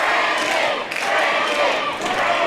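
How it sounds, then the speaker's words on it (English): Wrestling crowd roaring and cheering at a live show, a dense, loud and continuous wall of voices with small surges throughout. "Listen to this crowd get behind the owner."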